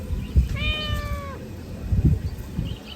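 At a cat nursery in Oman, one cat gives a single clear, mid-length meow close by, over soft background rumble and scattered low thumps.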